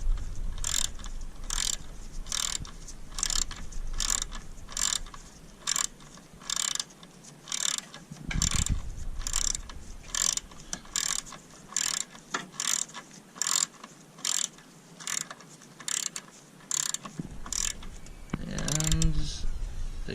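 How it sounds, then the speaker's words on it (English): A hand ratchet with an 8mm socket tightens a fastener during a corroded positive battery cable replacement on a third-generation Honda Odyssey, making a steady run of close, rapid clicks that continues for the whole stretch, with brief pauses. "8mm socket, you want to screw it in a bit more to tighten"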